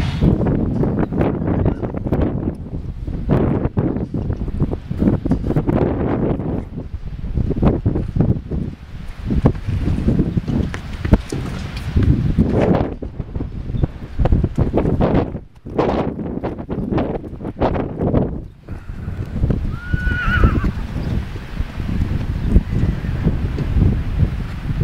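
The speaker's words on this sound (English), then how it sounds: "The wind is blowing about 20 miles an hour" Wind of about 20 miles an hour blows steadily across an outdoor spot in roughly 25-degree cold, a loud, continuous roar and buffet against the microphone with gusts rising and falling throughout.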